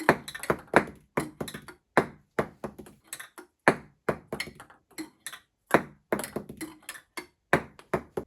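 Ping pong balls tumbling down a wooden marble run musical tree, a steady series of crisp, hollow taps and pings as they knock against the wooden leaves, closely recorded, one strike after another over several seconds.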